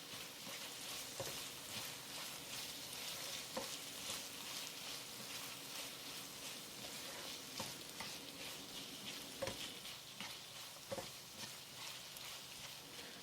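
100 grams of diced red bell pepper stir-fried in a pan with tomato ketchup give a steady, close, busy sizzle, broken by sharp clicks and scrapes from the spatula as it turns the pieces. No one speaks.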